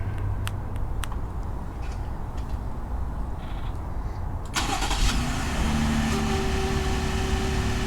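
Jeep Gladiator engine remote-started with a key fob: a few faint clicks over quiet background, then the engine cranks and catches about halfway through and settles into a steady, moderately close idle.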